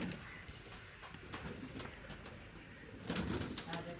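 Pigeons in a pigeon house give soft, low cooing that runs steadily throughout, with a busier, louder stretch near the end and faint rustling in the background.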